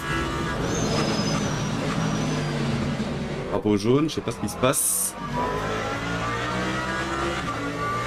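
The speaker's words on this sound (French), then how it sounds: "Quel bruit aussi la Lambo, j'adore cette Lambo." A Lamborghini race car in the Le Mans Ultimate sim racing game drones steadily with engine and track noise, broken by a brief burst of gear-shifting revs, while someone talks throughout.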